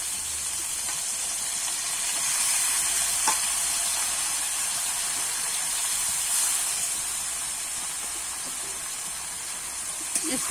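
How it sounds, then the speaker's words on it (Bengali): Washed rice and lentils stirred with spices in a hot pan, a soft continuous sizzle and hiss with faint scraping from stirring, steady throughout. "এবারে ধুয়ে রাখা চাল আর ডালটা কিন্তু আমি দিয়ে দেবো"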